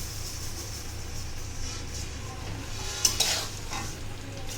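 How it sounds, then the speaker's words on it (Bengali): Puffed rice being tossed and stirred with spices, peanuts and salt in a bowl for jhal muri, a steady dry rustling scrape throughout with a couple of brighter clinks near the middle, no talking. "মুড়ির সাথে সবকিছু একটু মিশিয়ে নিচ্ছি"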